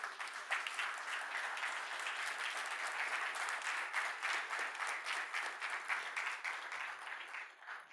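An audience at a panel event in Sundbyholm applauds steadily to welcome a speaker, a dense, even wall of clapping that holds for about eight seconds before easing slightly at the end.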